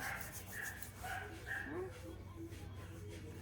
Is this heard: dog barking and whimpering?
yes